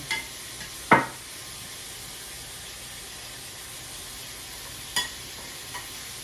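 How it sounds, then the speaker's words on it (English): Marinated chicken cooks in a pan with extra marinade, giving a steady low sizzle and hiss throughout, broken by a couple of sharp utensil clinks near the start and middle. "we'll take a little bit more of that marinade and just cook a little bit on"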